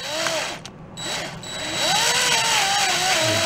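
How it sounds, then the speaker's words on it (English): A 12-24 tap is turned by hand through the threads of snare drum tube lugs on a Slingerland Artists Model snare under restoration, giving close, continuous scraping and metallic ratcheting with rising and falling squeaky tones. "if you want to make your tension rods work like butter, you take yourself a 1224 tap, and you go"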